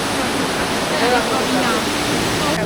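A river rushes steadily over rocks, a loud, continuous hiss and roar with no pauses.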